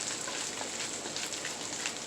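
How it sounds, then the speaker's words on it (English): Fried rice sizzling in a hot pan, giving a steady, close, rain-like crackle with no talking. "So what I want to do is give this another little stir."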